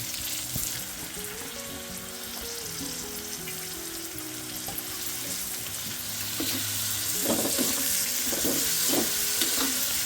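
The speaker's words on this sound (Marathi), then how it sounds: "तवा फ्राय मशरूम" Mushrooms fry on a hot tava with a steady, fairly loud sizzle that builds through the clip, and short stirring scrapes come near the end. No one speaks.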